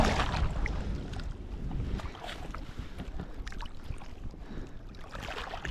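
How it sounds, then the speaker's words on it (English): Strong, freezing Arctic wind roars steadily outdoors, buffeting the microphone in a continuous dense rush with occasional gusty peaks. "that wind has just continued to pick up all day, and it is bloody freezing at the moment"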